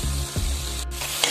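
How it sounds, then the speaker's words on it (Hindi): Eggplant with a little turmeric sizzling steadily as it fries in a pan for brinjal bharta, with faint stirring scrapes. "और हमें इसे अच्छी तरह से भूनना है, जितना आप अच्छी तरह से भूनोगे उतना ही फ्लेवर आएगा।"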